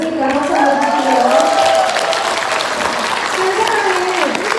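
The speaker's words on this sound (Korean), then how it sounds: "박수 한번 주시고요." Audience applause at a top-leader business seminar, dense steady clapping from a large crowd filling the room, loud and continuous throughout.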